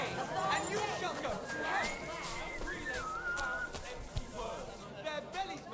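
Melodic whistling by a character in the medieval role-playing game Kingdom Come: Deliverance 2, wavering tones over a busy crowd with horse hooves and background chatter.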